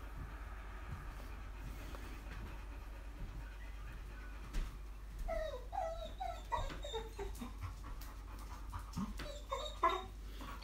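An old dog whimpers and pants indoors, the thin, high whines coming in a quick, uneven series through the second half over a steady low hum, with no one talking.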